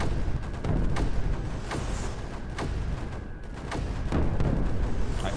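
Mortar fire in the strategy game Creeper World 4, a run of evenly spaced booming thuds about every half second to second, loud and continuous across the clip with no talking.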